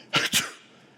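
A person imitates a sneeze vocally, giving two quick breathy bursts close to the mic, the second fading out, with no other sound around them.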